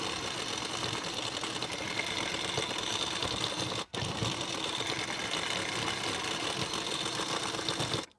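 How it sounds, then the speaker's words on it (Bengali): Sewing machine running a fitting seam along marked lines on a size 40 bra-cut blouse, a steady close mechanical whirring with a brief stop near the middle before it resumes, with no voices. "তো এখন দাগ বরাবর করে ফিটিং সেলাইটি দিয়ে নেব।"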